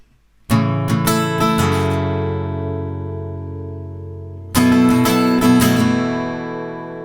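Two bold acoustic guitar strums from the outro of a song ring out, each left to sustain and fade, the second chord arriving after a few seconds of decay.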